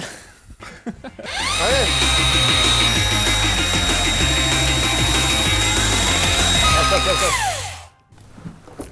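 A power sander starts up and grinds against denim motorcycle jeans with a loud, steady whining roar for several seconds, then winds down, with brief noises before and after.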